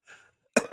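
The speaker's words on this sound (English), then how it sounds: "Sorry, I was coughing" A single short cough bursts out close to the microphone after a faint breath, loud and abrupt, then fades quickly.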